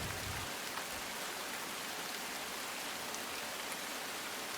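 Heavy downpour in Bhavnagar, Gujarat, a dense, even hiss of rain falling steadily without pause, fairly faint overall and with no voices.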